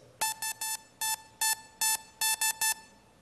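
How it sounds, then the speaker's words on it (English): An SOS distress signal in Morse code, played as crisp, clear beeps: three short, three longer, three short, repeated, close and alone with no talking. "SOS is an international code signaling extreme distress."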